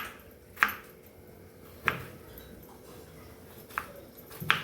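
Four separate knife chops through tomato on a board, sharp close thuds spaced a second or so apart, with quiet kitchen background between them.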